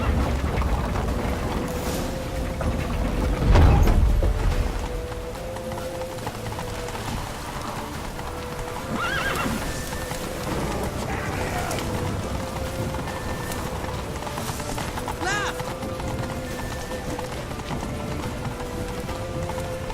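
Hooves pound in a fast galloping clip-clop as a horse runs in The Witcher 3, with a heavy burst of hoofbeats early on, then steady riding under ambient game sound and brief effects.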